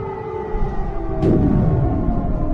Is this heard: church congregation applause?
no